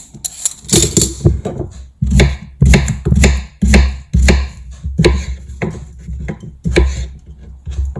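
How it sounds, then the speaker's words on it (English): Cucumber is cut on a kitchen chopping board in steady, loud knife chops, a dozen or more evenly spaced thuds with brief pauses between runs, and no talk. "I don't like cucumber peel, so I always peel my cucumber."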